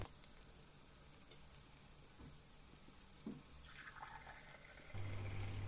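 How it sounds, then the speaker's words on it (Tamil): Chili powder and onion with green masala sautéing in oil for a tamarind curry with okra, a steady low sizzle throughout that swells louder and fuller near the end. "இப்போ பச்சை மசாலாம் போய் எண்ணெயில் நல்லா கொஞ்சம் வதங்கிடுச்சு"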